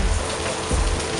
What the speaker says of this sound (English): this is our first measurable rainfall of the summer